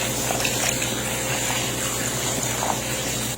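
Water pours steadily into a cooking pan holding marinated chicken, making a continuous rushing, splashing hiss from start to finish.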